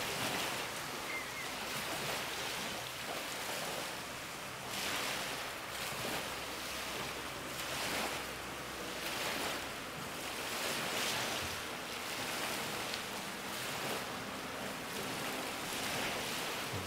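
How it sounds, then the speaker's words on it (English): Ocean surf rolling onto the beach at San Juan on Siquijor Island, Philippines, a steady broadband wash with gentle swells every few seconds and some wind noise on the microphone, with no voices. "And there's the ocean."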